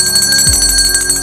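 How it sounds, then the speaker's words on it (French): A bell is rung in celebration for the Delma 95 team, producing a steady, sustained metallic ringing with a dense shimmer of high overtones, heard alone at close range beneath a low rumble. "un coup de cloche pour toute l'équipe de Delma 95"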